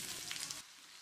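Chopped ginger, with pepper and cumin, sizzling in hot ghee as a tempering for pongal, a close hiss of frying that drops off sharply about halfway through, leaving faint low background.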